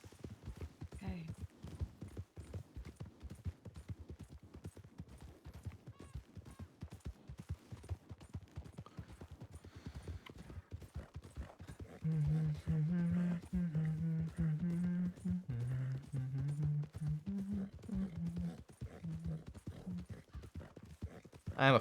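Horse hooves clip-clop in a Red Dead roleplay game, a long run of rapid rhythmic hoofbeats that continues throughout, joined midway by a louder tonal layer of game music or voice over the steady gait.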